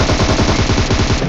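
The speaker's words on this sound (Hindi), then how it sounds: "सब फायरिंग हो रही थी" Fast automatic gunfire in a shooter video game battle royale match near a military base, a steady rapid rattle of shots that is loud, close and unbroken, with no voices.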